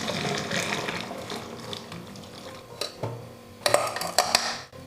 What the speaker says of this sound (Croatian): Procijedit ćemo ostatak.